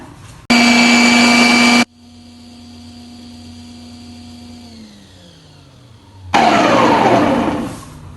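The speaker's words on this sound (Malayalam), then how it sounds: "ഇപ്പം ഞാൻ എള്ളെല്ലാം പൊടിച്ചെടുത്തിട്ടുണ്ട്" A kitchen mixer grinds roasted sesame seeds for tahini in two loud, steady bursts. Between them the motor whines down, its pitch falling as the blades slow. The second run roughens and tapers at the end.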